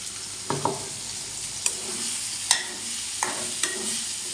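Prawns and spices stir-fried together over onions and chilies, sizzling steadily with several sharp scrapes and clinks of the stirring spoon against the pan, fairly quiet and close, with no talk.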